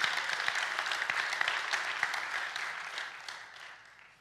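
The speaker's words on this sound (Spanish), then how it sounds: "Let's give him a applause if you want to give it." A church congregation claps together in warm, dense applause that starts loud and slowly fades out over about four seconds.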